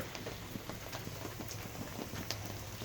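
Rain falling outdoors at a Father's Day barbecue beside a Weber kettle grill, a soft steady patter with scattered sharper drops, faint and continuous throughout.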